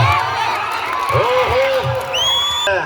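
A crowd at a village kabaddi tournament cheers, whoops and shouts continuously, loud and close, with whistle-like calls near the end and scattered clapping.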